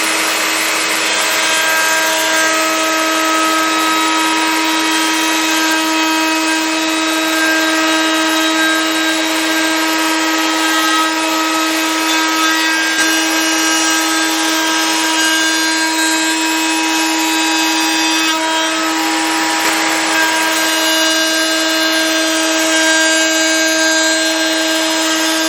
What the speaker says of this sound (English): So let's start by cutting the groove in for the support feet.